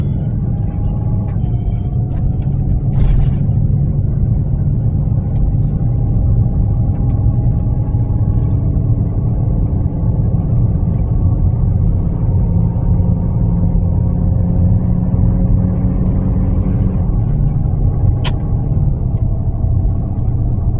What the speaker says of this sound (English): Motorhome drives way different without a truck behind it